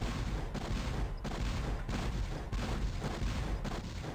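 Cannon fire in the video game Spyro 2: Ripto's Rage, heard as repeated loud booming blasts in quick succession. Each blast is followed by rumbling noise, and no one speaks over it.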